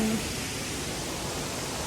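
A forest waterfall makes a steady, broad rushing hiss, constant and fairly loud, with no other sounds above it.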